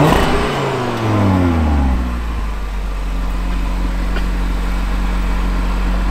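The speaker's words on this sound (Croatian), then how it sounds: "Čujete zvuk motora da je puno ovaj bučniji." A 2022 Audi RS3 engine in its louder mode revs up and then settles into a deep, loud idle rumble, close by, with no talking.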